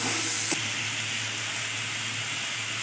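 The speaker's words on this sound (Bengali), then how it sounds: "গাজরগুলো মশলাটার সাথে ভালো করে আমি কষিয়ে নেব।" Fried chopped carrots stirred with masala in a pan for Bengali-style paneer malai curry give off a steady, even sizzling hiss with one brief clink early on, and no voices.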